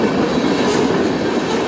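A Canadian National freight train rolls past close by, a loud continuous rumble of railcars with steady wheel and rail noise and no pauses, heard alone with no talking.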